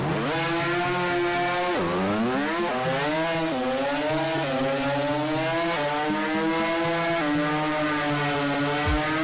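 A naturally aspirated 2-rotor rotary drag car makes a run, its engine screaming loud and close with a steady high buzz. The pitch climbs through repeated gear changes, dipping sharply at each shift before rising again.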